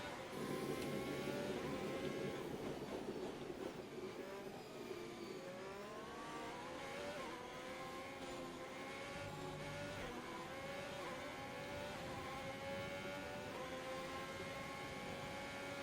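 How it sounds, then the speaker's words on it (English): Race car engines in the F1 2021 video game scream continuously and close, with several cars layered together, revs climbing and dropping through gear changes, and a brief drop in pitch as they brake. "Good late braking under the Williams of George Russell."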